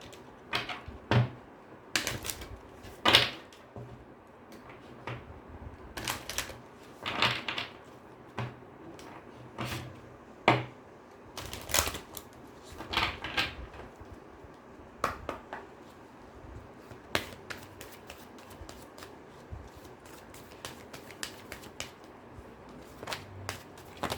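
Cards from an Ask Angels Oracle deck are handled and drawn: scattered soft taps, clicks and brief rustles come in irregular bursts over a quiet background, close by, with no one talking.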